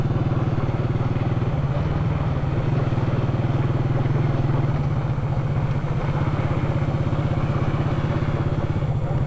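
A motorcycle engine runs steadily and close by while riding on sand, a low rumbling drone with rattling texture throughout, no pauses.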